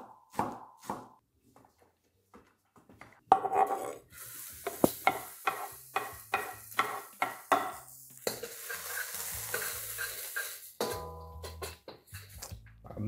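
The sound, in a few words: sautéing shallots with crab fat in a pan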